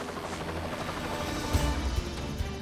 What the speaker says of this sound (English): 2 big fat guys in a helicopter.